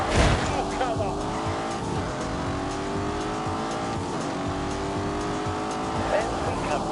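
Aston Martin 4-litre twin-turbo V8 in a racing video game, engine droning and rising through gears with tire squeal, steady and loud, with a voice talking over it.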